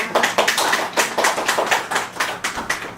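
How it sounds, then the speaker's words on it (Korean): An audience claps steadily for about three seconds at a Sunday Buddhist dharma talk, with dense, even applause that stays fairly loud throughout. "박수 한번 보내봐요"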